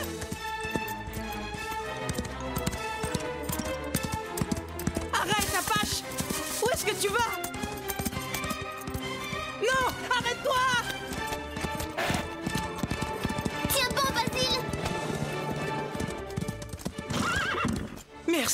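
Nervous horses in an animated ranch scene clip-clop with rapid hoofbeats, neigh and whinny loudly over music.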